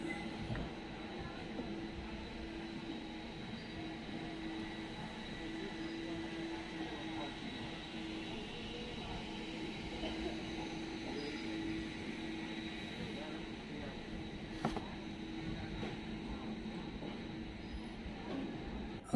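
The Seemanchal Express running just after leaving Katihar Junction gives a steady, continuous rumble and rattle of the moving carriage, heard from inside at moderate level without change throughout.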